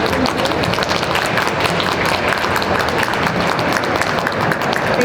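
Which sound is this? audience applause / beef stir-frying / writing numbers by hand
audience applause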